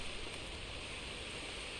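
Rain in the video game Red Dead Redemption 2 at night, a dense, even hiss of falling water that fills the scene steadily and alone without a break.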